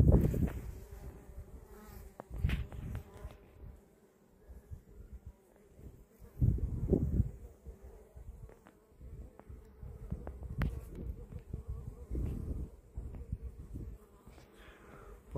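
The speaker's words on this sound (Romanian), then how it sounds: "cum trec albinuțele" Bees buzz continuously nearby at a flowering rapeseed field, their drone rising and falling as they fly past, with occasional soft bumps and rustles outdoors.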